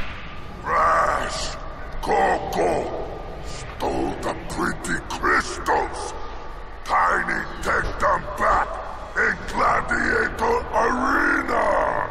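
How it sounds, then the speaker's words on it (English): Dogs bark and yip in the Crash Bandicoot 3 remastered N. Sane Trilogy game on PS4, a series of short, loud outbursts spread across the clip amid game sounds. "my god, dogs are barking."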